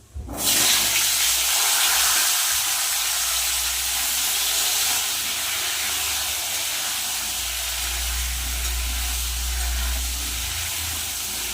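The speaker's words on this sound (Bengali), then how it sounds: "তেলের মধ্যে দিয়ে দেবো কেটে রাখা সবজি" Chopped vegetables dropped into hot oil with panch phoron and dried red chillies hiss and sizzle loudly and steadily, a dense close frying roar that starts at once and holds without pause, with no talking.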